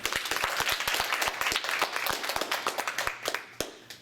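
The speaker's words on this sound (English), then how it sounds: "Everybody, let's clap for Paula." A small classroom audience claps together after a speech in a lively burst of applause that gradually thins out and fades toward the end.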